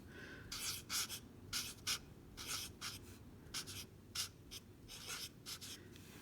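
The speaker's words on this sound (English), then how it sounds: "So let me go ahead and write that out." Hand-writing the word "quarter": a quiet run of short scratchy strokes in uneven bursts, pausing briefly between letters, with no talking.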